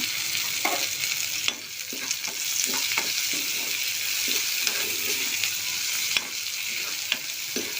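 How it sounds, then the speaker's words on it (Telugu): Onions with turmeric and salt fry in a pan for a brinjal and chana dal curry, a continuous close sizzle with occasional clinks and scrapes of stirring, and no talking. "ఇది ఇలా కొంచెం ఫ్రై అవుతుండగా"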